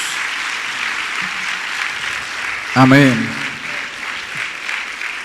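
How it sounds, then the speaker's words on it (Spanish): A church congregation gives sustained applause during a Spanish-language service, a broad, even crackle of many hands that fills the room, with a single voice briefly calling out over it partway through. "Démosle el aplauso a la iglesia que está en la radio"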